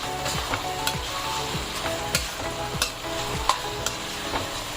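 Spice masala for a black pea curry fries and sizzles in hot oil, with a spoon or spatula repeatedly scraping and stirring through it at a steady rhythm, close up and with no one talking.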